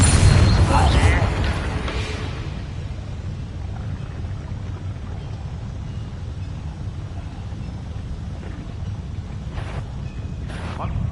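A Bombarda spell in Hogwarts Legacy bursts with a loud, deep boom at the start, then fades into a low rumbling, windy roar that continues steadily to the end.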